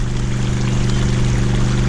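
Clear water gushes out of a freshly cleaned potable water tank, giving a loud, continuous rushing flow over a low steady hum, with no voices.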